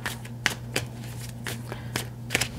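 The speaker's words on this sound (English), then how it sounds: "let me just shuffle these around a couple more times" Tarot cards are shuffled by hand close up, giving a series of quick, crisp riffling bursts at irregular intervals over a low steady background hum.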